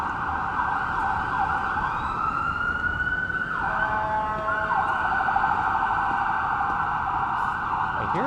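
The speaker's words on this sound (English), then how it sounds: "I hear the sirens, but I can't see them." Ambulance siren wailing on a busy downtown Toronto city street in winter, its rising and falling tone steady and fairly close over continuous traffic noise, with no talking.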